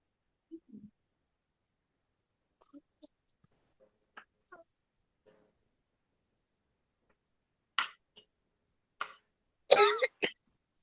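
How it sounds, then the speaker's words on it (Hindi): A few sharp coughs and throat-clearing sounds, close and isolated, with a final burst of two or three harsher coughs near the end amid near silence. "इसे खांसी आ रही है।"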